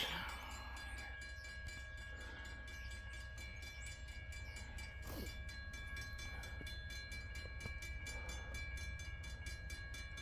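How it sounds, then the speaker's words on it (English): A CSX freight train of 188 axles nears on the rails at Greenwich, Ohio, a steady distant rumble with a horn blast partway through and rhythmic wheel clicks building toward the end. "Here comes our final train of this particular episode."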